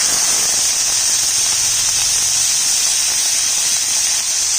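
Onion paste added to hot mustard oil with five-spice and dried red chilli, a constant bright sizzling hiss, loud and close, with no pauses.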